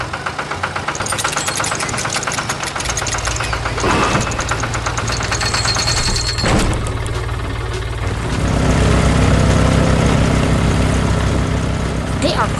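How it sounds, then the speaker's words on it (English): Red and pink tractors carving furrows in the soil, their engines chugging and knocking steadily at close range, swelling louder toward the end with a rougher, heavier tone. "Now, the red and pink tractors stand ready"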